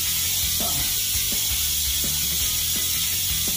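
Ratcheting wrench clicks in short bursts while working a brake line fitting during a line lock install on a 1965 wagon, close and crisp over a low background hum.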